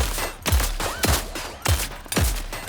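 Repeated heavy gunshots in a game, about five booming blasts at a steady pace, loud and close with no talk.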